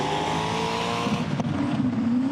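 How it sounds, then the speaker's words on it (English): A drift car in competition at the FIA Motorsport Games Drifting Cup, its engine droning steadily and held back near the limit, with a tyre squeal rising toward the end of the run. "you just hear the engine sort of being held back there"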